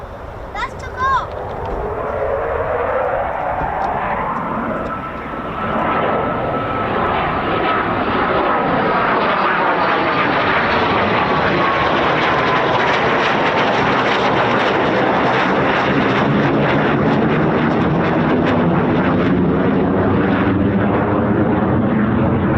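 An RAF 41 Squadron Eurofighter Typhoon jet takes off at RAF Waddington during a military exercise. A loud, rising roar swells and sweeps past, then holds as a powerful sustained rumble.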